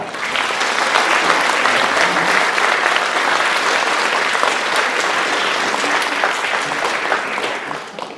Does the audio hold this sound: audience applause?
yes